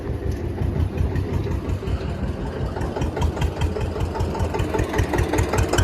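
A tractor engine runs close by while pushing straw into a verandah, a steady low rumble with a rapid chugging pulse that continues throughout without pause.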